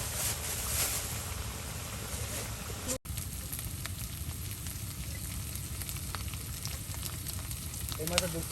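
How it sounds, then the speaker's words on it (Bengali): Kuchia eel pieces frying in hot oil in a village-style kitchen, giving a steady, close, continuous sizzle with crackling throughout and a brief break partway. "এখন তেল দিয়ে এগুলি কিন্তু তেলে ভেজে নেওয়া হবে।"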